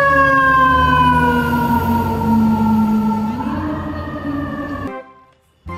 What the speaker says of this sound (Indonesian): Mobil tangki damkar.